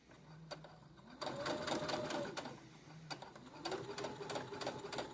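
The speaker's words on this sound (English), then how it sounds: "And then I'm slowly going to sew over top." A sewing machine stitches a fabric seam on a pillow cover, close and clear, running in two stretches of rapid, even mechanical whirring with a brief pause between them.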